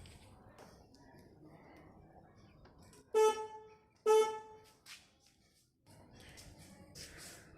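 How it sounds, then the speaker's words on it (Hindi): Two short, bright honks from a weak aftermarket horn on a 2016 Suzuki Access 125 scooter, sounding about a second apart, with quiet talk before and after. "पहले मैं आपको इसकी आवाज़ सुना देता हूँ हॉर्न की।"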